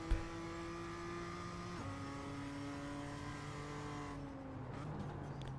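A simulated BMW M2 race car engine at Okayama in iRacing drones loudly as it accelerates, the pitch stepping down at a gear change and then climbing steadily, with no talk.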